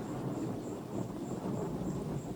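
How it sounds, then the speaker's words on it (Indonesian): A dense, steady roar of heavy rain and strong storm wind stages a flood in a drama, rumbling continuously with no breaks, and a faint high chirping pulses regularly above it. "Belum pernah hujan turun selebat itu. Bagaikan dicurahkan dari langit."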